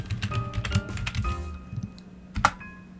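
A computer keyboard clicks in quick, uneven bursts of keystrokes, close and fairly quiet, with a short pause before a final sharp tap.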